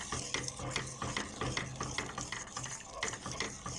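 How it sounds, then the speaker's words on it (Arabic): A spoon scrapes and clinks rhythmically against a pot while stirring strawberry or apricot jelly off the heat, with repeated quiet strokes close to the mic. "طبعا احنا مطفين النار يا جماعة، منحطش سكر طبعا، نقلب"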